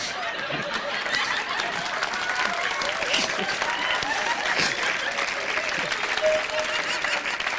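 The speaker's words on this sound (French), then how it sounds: "Elle s'applaudit!" Steady audience applause in a comedy show studio, with a few scattered laughs and chatter mixed in, continuous and moderately loud across the whole stretch.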